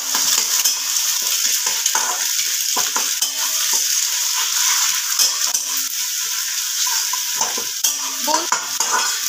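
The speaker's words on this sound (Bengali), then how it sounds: "নুন দিয়ে ডিমটাকে আমি ভালোভাবে ভুজিয়া করে নেব" Salted eggs being stirred and scrambled in a hot pan for a dhaba-style egg chicken tadka, with steady sizzling and repeated scrapes and clinks of a spatula against the pan, close and alone.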